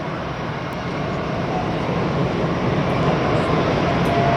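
A SIAI-Marchetti light attack jet launching at the 2010 NAS Oceana airshow gives off a loud, steady broadband roar that builds slightly over a few seconds, with no voices over it.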